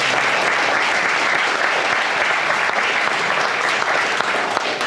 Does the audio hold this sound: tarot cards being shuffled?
no